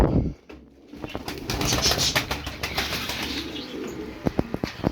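Pigeon wings beat near the handler in a flurry of rapid flaps and rustles, with a few sharp claps toward the end and soft cooing in the background.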